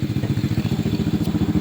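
A motorcycle engine runs close and loud with a steady fast throbbing pulse, a brief rev on a bike whose bulbs and added lights blew from 26-volt overvoltage, alone without talk.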